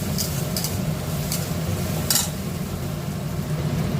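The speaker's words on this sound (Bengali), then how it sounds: "এখানে চিমনিটা চালানো আছে বলে ভীষণ আওয়াজ হচ্ছে" A kitchen chimney exhaust fan roars in a loud, steady broadband drone up close, with a few faint clinks of utensils and sizzling over the top.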